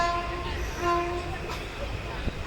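Jan Shatabdi Pongal special train rolling out of a station, a low rumble with faint tonal hums from the rails, a voice speaking over it and a brief knock near the end.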